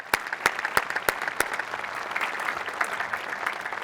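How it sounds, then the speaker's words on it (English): Applause at a college presidential inauguration ceremony, with a few sharp, close claps standing out over a steady wash of audience clapping that continues at moderate level throughout. "I think he deserves a round of applause and great appreciation"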